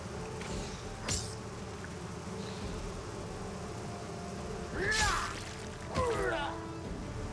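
Insect enemies buzzing in the fantasy role-playing game Pathfinder: Wrath of the Righteous, with a steady drone under game ambience, several sharper buzzing swells and a couple of impacts.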